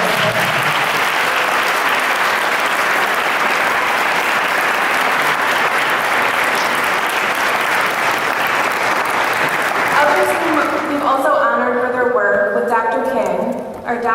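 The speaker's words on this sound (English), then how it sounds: "Let's give them a round of applause." A large audience applauds honorees at a Martin Luther King Day justice program, a loud continuous roar of clapping for about ten seconds, then fading as a voice begins speaking over it.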